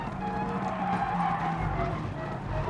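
A race car spins out and slides in GT Sport, tires skidding loudly over a steady engine roar for a few seconds.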